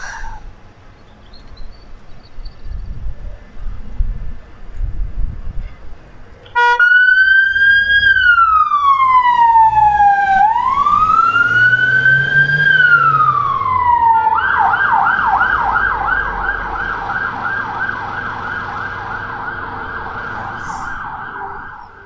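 An emergency vehicle's siren starts abruptly, first a slow rising and falling wail, then a rapid yelping warble, loud and close throughout after a short stretch of background noise.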